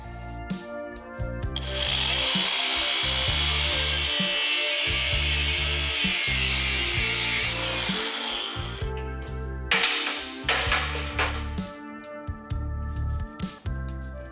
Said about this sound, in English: come in here and cut the mounting pad off of the back of the tube